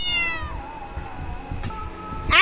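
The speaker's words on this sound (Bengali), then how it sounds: "ম্যাও ম্যাও করে ডাকছে, কাকে ডাকছে?" A cat gives a single drawn-out meow, close and clear, bending downward in pitch, then a short rising call follows at the end, with quiet background noise and no talking.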